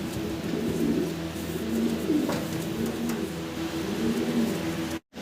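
Caged pigeons coo repeatedly in low, soft, rolling calls close by, steady throughout with no talking.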